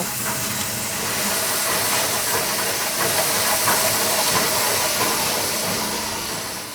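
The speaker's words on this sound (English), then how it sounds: "It sounds like a steam train just chugging along." A loud, steady hiss from a heavy press moulding rubber, broadband and continuous, with faint rhythmic chugging pulses underneath like a steam train, no voices.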